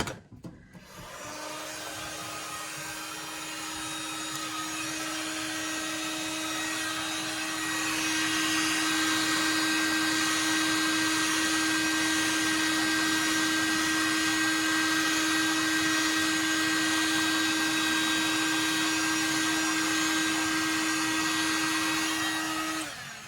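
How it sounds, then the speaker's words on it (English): A heat gun blows on a wild turkey beard, giving a steady, loud airy whir with a constant motor whine that runs unbroken for over twenty seconds with no talking. "I'm going to use a heat gun"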